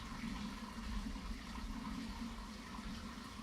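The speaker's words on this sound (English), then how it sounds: "Sounds like a bucket of water is being emptied." Water from an emptied bucket rushes and splashes in a continuous flowing wash, fairly faint and steady, with no voices.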